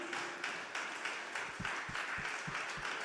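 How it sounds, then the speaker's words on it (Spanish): Church congregation applauding during a Spanish-language sermon, a soft, fairly distant wash of clapping lasting a few seconds with a handful of louder individual claps near the end. "Así es que dale un aplauso al Señor."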